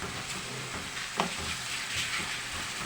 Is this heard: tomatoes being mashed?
yes